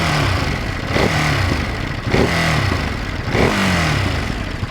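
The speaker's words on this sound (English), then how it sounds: "this has a very throaty exhaust note. It has a typical Ducati note, but it does sound quite nice once you open up." A Ducati Monster middleweight naked motorcycle with a throaty exhaust revs repeatedly nearby, its engine rising in three blips roughly a second apart over a steady idle rumble, loud and with no talk.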